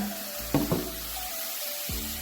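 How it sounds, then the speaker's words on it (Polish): Food for a green pasta dish, peas among it, fries and stews in a pan, hissing steadily up close with a couple of sharp clatters of stirring near the start and another toward the end. "niech to nam się wszystko tutaj pięknie smaży, dusi"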